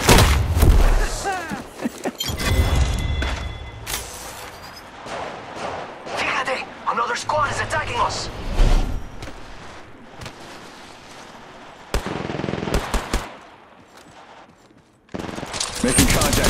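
Rapid automatic gunfire in a first-person shooter video game firefight, loud bursts of shots and thuds at close range, with someone talking over parts of it and pauses between volleys.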